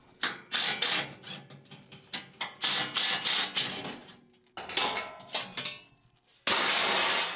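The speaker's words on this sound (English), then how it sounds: "something's clunking" A rapid series of sharp, irregular clunks and knocks comes from a broken differential mount on a vehicle driving a corrugated outback track, then gives way to a steady, loud roar.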